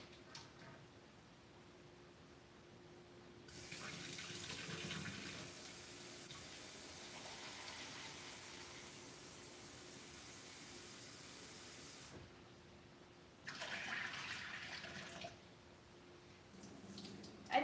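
Water from a tap runs in bursts as rice is rinsed, with a steady hiss that swells, cuts off and comes back, close by in a quiet kitchen.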